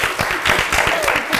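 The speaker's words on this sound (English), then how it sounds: "I'll give them a round of applause" Audience at a science week quiz clapping in a brisk, steady burst, close and fairly loud, with no talk over it.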